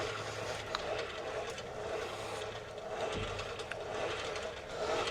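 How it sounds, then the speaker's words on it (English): Inside a 55-ton Chieftain main battle tank, the turret traverse is turned by a hand crank, making a continuous quiet mechanical whir with soft ratcheting clicks over a low hum for several seconds. "So right now we're trying to just spin the turret around"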